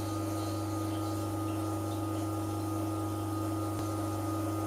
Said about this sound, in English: You hear the water pump kick in.